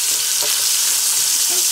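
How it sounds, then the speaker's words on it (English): A salmon fillet fries in a skillet, giving a loud, dense, unbroken sizzle up close, alone with no talking. "so I'm gonna go ahead and flip this."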